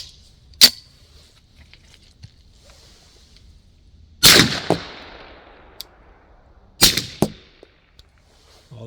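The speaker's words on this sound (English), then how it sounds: "the next shot will be one of the 147 grain subs" Suppressed Beretta 92 pistol firing 9mm rounds, 147 grain subsonic and 115 grain supersonic, with three sharp cracks spaced a few seconds apart, each trailed by a brief metallic clack of the action, loud and close, with quiet between shots.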